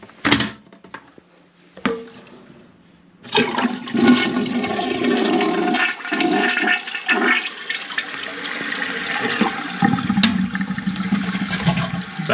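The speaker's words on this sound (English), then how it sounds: "we're going to test the flush" A toilet with a newly replaced flush valve is flushed: after a couple of quiet clicks of the handle, water rushes loudly and steadily through the bowl and tank, then continues refilling up close.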